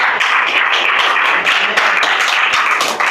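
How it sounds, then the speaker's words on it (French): A church congregation claps and acclaims loudly, a dense, continuous burst of many hands close by with no pauses. "Une acclamation au Seigneur Jésus"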